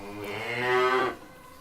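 A man mimics a cow's moo with one drawn-out, nasal lowing call that swells and then cuts off, loud and close.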